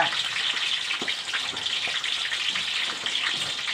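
Steady, bright sizzling and crackling of pork leg frying in hot oil, close by and continuous, with no talking.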